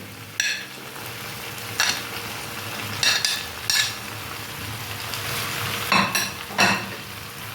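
Cauliflower, shrimp, beans and carrots frying together in oil, a steady sizzle with several sharp scrapes and stirs of a utensil against the pan at irregular intervals, close and clear, with no talking.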